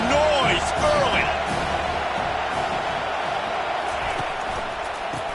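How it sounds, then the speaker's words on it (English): A steady, dense stadium crowd roar in the NCAA College Football 25 video game fills the whole stretch evenly, with a commentator's voice talking over it. "This crowd bringing the energy and noise early"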